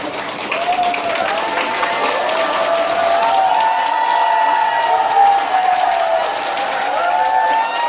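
A year-end concert audience applauds and cheers steadily for about eight seconds, a broad wash of clapping mixed with scattered shouts and whoops filling the hall at an even, fairly loud level.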